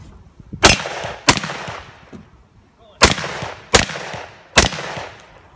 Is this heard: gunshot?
yes